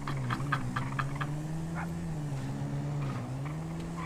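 A motorbike engine in GTA NoPixel roleplay holds a steady droning hum with slight pitch wobbles and a few faint clicks, continuous and fairly close.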